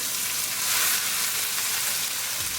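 Garlic, ginger and cumin seeds sizzle steadily in a tablespoon of hot olive oil, a dense, close, continuous frying hiss with no voices.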